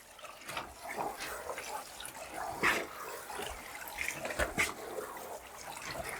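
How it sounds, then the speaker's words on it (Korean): An outdoor windbreaker jacket rinsed by hand in water, with soft sloshing and splashing in uneven bursts, close and moderately quiet. "그래서 이렇게 한 번 더 헹궈 줄 거예요."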